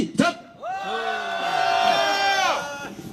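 A crowd at a nightly candlelight protest rally in Seongju lets out a loud, sustained rousing cheer of many voices together, starting on a spoken count and lasting about two seconds.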